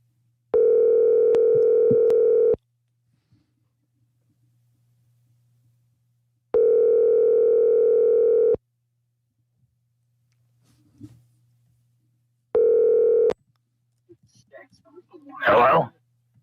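An outgoing phone call rings back through a handset: two long steady ringback tones and a shorter third, evenly spaced with quiet gaps between, followed by a faint bit of noise and a brief voice at the end.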